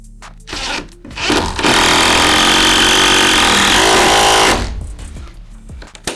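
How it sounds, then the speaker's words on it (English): A Hilti SID 4822 impact driver on a 22-volt battery drives a screw into a joist during stairwell renovation work. It gives one loud, sustained whirring-hammering burst of about three seconds, with handling knocks before and after. "the Hilti impact driver, the SID 4822 with the 22-volt battery"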